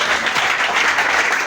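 Congregation applauding during a prayer service, a brief steady wash of clapping from many hands, fairly loud and even throughout.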